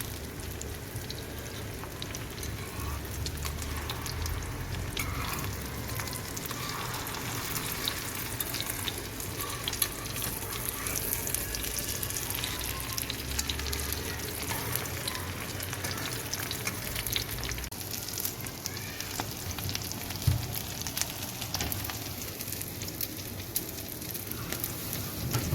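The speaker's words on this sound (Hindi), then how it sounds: "बिल्कुल लो हीट पर मैं कबाब को फ्राई कर लूँगी।" Kebabs coated in egg fry gently in oil over low heat, giving a soft, continuous crackling sizzle that resembles light rain and holds steady throughout at a moderate, close level.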